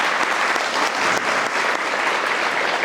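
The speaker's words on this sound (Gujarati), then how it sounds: "એકવાર એના માટે જોરદાર તાળી." Audience applause in a hall, steady dense clapping from a crowd sustained throughout, loud and even with no pauses.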